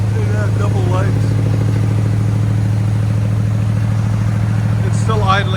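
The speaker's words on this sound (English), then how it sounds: "It's still idling up." A 1962 Cadillac Coupe DeVille V8 with true dual exhausts and glass pack mufflers idles with a loud, steady low rumble, while people talk briefly over it near the start and end.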